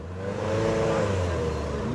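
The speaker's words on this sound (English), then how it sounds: "Couple more cars coming in. Check out the Mk1 Cortina." Mk1 Ford Cortina arriving at an evening car meet at the Ace Cafe in North London, its engine note rising and swelling as it draws closer over two seconds.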